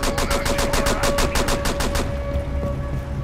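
Rapid automatic gunfire in the tactical shooter Rainbow Six Siege, a loud, close burst of about sixteen evenly spaced shots lasting two seconds, followed by quieter game ambience.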